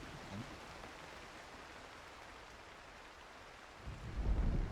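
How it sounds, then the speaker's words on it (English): Rain falls as a steady, even hiss in the video game Cairn, and a low thunder rumble swells near the end. No one speaks. "So it's raining now."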